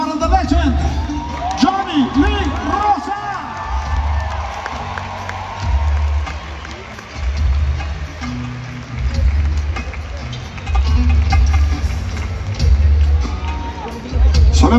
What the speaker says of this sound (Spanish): Un fuerte aplauso para The Legend.